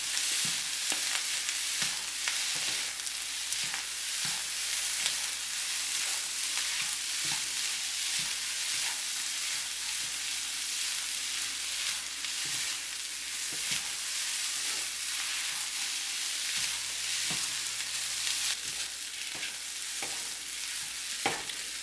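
Chicken andouille sausage fried rice with green onions sizzling steadily in a hot pan, with a spatula clinking and scraping at irregular intervals as everything is stirred together.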